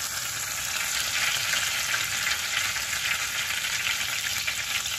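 A venison burger searing in hot oil in a pan, giving a steady, bright, crackling sizzle that holds evenly at moderate volume throughout with no voices.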